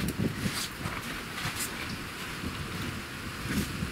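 Rain falling on a shelter roof at a house in the south, a faint steady patter and hiss with soft gusty swells, no voices.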